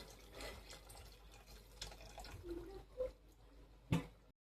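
Hot water is poured from a vessel into cooked prawn curry in a home kitchen. The pour is quiet and close, with soft splashing and trickling and one brief louder splash near the end.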